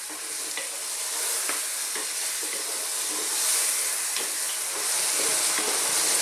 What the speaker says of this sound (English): Stirring all the time now. We don't want our powders to burn